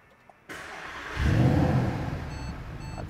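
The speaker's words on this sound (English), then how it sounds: "hit this engine start button" A 2012 Mercedes-Benz SLS AMG is started by push button: a short starter whir catches into a loud revving flare, then settles into a deep idle, with faint beeps near the end.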